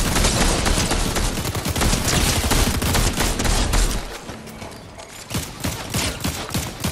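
Sniper gunfire in a Fortnite match, a dense barrage of loud overlapping shots that breaks off midway and then returns as scattered cracks.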